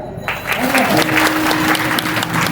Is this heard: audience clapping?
yes